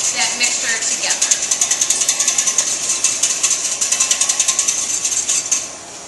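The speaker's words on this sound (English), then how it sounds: "you're gonna take your whisk and you're just going to dissolve that mixture together" A whisk beats a yeast, sugar and water mixture in a bowl, giving a fast, steady, close scraping rattle that keeps a regular rhythm for several seconds before it stops.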